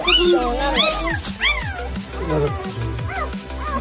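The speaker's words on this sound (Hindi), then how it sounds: "ये बहुत भौंक रहा है" Newborn puppies, two days old, yelp, yip and whimper in rapid rising and falling cries, close and loud, with people talking over them indoors.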